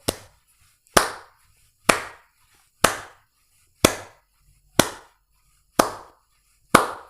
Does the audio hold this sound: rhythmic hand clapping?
yes